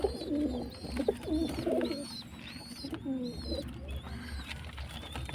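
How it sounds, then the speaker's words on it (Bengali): A pair of Madrasi pigeons, one red and one white, cooing nearby in repeated throaty, rolling phrases, with soft chirps in between. "এখানে একটা লাল ম্যাড্রাসি, সাদা ম্যাড্রাসি জোড়া আছে, তোমরা দেখতেই পাচ্ছ"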